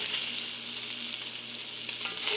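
Sausage browns in a Dutch oven for Cajun red beans and rice, giving off a dense, even, close-up sizzle with fine crackling and no voices.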